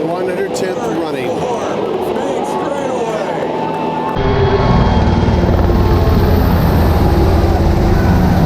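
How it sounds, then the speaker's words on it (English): Helicopters fly over a race track on race day, a dense rotor and engine roar that grows louder and fuller partway through, with people talking and crowd noise beneath. "Helicopters have went back to the golf course to land."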